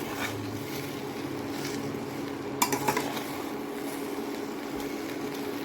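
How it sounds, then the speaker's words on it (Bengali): Jujube pickle with salt is stirred in a pan over a soft background sizzle, with a brief cluster of scraping, clinking strokes from the spoon against the metal midway. "এবার নুন দিয়ে আমি ভালো করে এবার নাড়ব"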